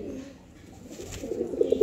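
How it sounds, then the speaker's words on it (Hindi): Pigeons coo softly close by, a low continuous burbling murmur that swells a little louder toward the end. "ये देखिए ये दोनों कबूतर हैं"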